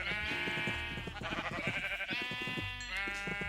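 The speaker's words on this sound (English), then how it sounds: "I can go over to the sheep real quick and breed a couple of them as well" Minecraft sheep bleat in quick succession, giving close, loud, wavering calls that overlap briefly and then trail off into a final bleat.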